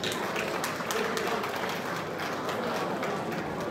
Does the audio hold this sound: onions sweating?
no